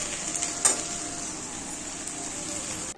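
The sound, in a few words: okra and onion frying in a pan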